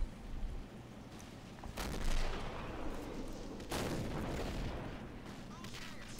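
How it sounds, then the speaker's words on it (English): Gunfire and heavy weapons sound from the real-time strategy game Men of War: Wüstenkrieg as an attack begins near an airport. A steady crackle of shots runs throughout, broken by two louder, booming bursts. "I'm already opening fire on them, doing some serious damage before they've even left the airport"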